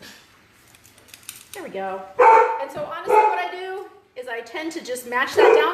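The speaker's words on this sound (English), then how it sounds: "Sorry for the barking." A dog barks intermittently in a home kitchen during coffee cake baking, the barks partly buried under a person's steady talking.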